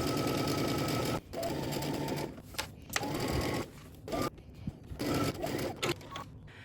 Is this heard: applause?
no